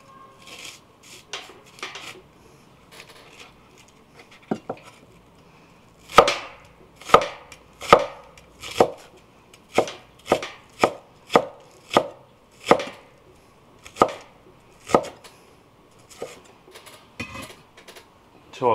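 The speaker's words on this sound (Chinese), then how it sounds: "然后把它改刀切成丝" A knife chops scallions into thin shreds on a cutting board, starting with sparse taps and settling into a rapid, even run of crisp, close chops.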